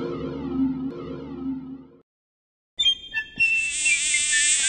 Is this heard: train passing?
no